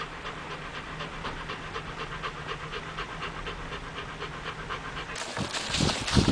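A dog pants rapidly and rhythmically close by, a steady breathy huffing, joined near the end by louder rustling and movement noise.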